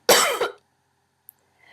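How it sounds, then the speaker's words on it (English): A short harsh cough fit, two rough bursts close to the microphone, then silence apart from a tiny click and faint noise at the end. "I was having a little bit of a coughing attack there"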